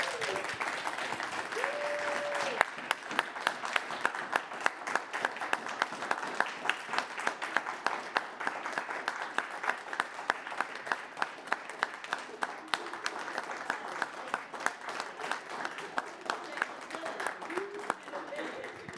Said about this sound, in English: can we please give a huge round of applause to Dr. Louise Toppin for organizing today.